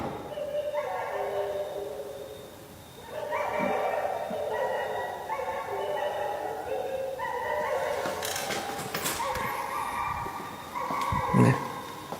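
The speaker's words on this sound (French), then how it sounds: "on entend d'abord des chiens aboyer au loin" Dogs bark and yelp in the distance, a series of faint, howling, whining calls that overlap and come in uneven bursts, joined by a short sharp knock near the end.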